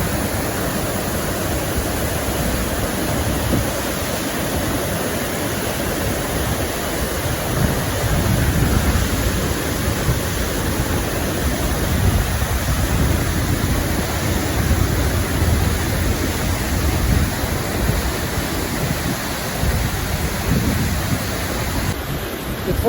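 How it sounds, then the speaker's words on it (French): The Vegay waterfall at Aiglun gives a loud, continuous broadband roar of falling water, steady and close throughout with no break. "c'est la première fois que je vois une cascade comme ça."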